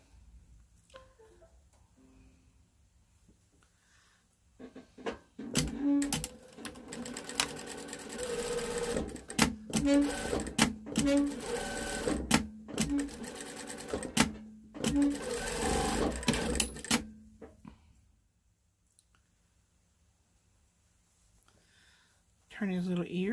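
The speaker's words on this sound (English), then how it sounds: "We're going to sew this bottom together." A sewing machine stitches the bottom seam of a stuffed memory bear, starting after a quiet pause and running in several short bursts with sharp clicks and stops, then falling silent again.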